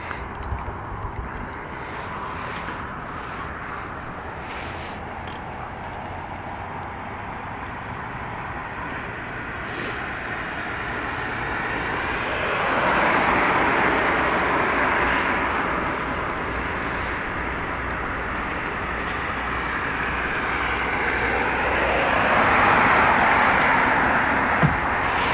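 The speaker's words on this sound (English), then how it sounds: "Ryanair off to London." A Ryanair plane takes off from runway 28 right at Dublin Airport. Its engine roar is heard from a distance over a steady background rumble, building in two broad swells.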